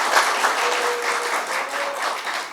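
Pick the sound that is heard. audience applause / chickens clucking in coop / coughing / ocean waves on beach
audience applause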